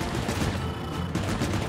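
Enemy gunfire in the video game Pikmin 4, a dense burst of rapid shots filling the short stretch with a steady, loud rattle and no talk.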